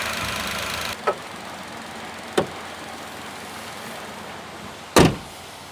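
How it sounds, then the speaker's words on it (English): A 2018 Ford Ka Plus 1.2 three-cylinder engine idles with a low, slightly shaky hum, broken by a few sharp clicks and knocks, after a louder first second. "on these 3-cylinder engines, they're always a little bit shaky like that"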